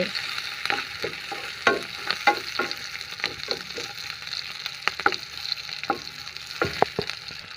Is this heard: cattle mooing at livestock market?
no